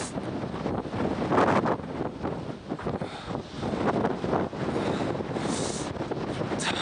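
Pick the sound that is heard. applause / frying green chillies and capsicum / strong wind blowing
strong wind blowing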